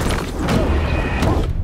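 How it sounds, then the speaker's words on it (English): A flashbang grenade goes off in Alan Wake 2, a dense booming burst that keeps a sustained, loud wash of noise for nearly two seconds with no talk. "Let's flashbang"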